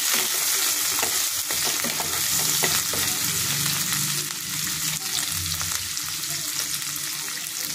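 Chili and onion fry in a pan, a steady close sizzle with scraping and clinking as a spoon stirs them, continuous throughout with no talk.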